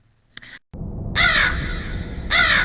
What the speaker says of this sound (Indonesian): Suara burung gagak seperti alarm alam bahwa matahari sudah waktunya tenggelam.